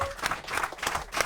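A crowd applauds for a singer, giving a brief, dense patter of clapping close by.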